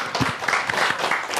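An audience applauds at an evening stage event in the Kalinkovichi district near Gomel: a short, loud burst of dense, continuous clapping from a crowd in a hall.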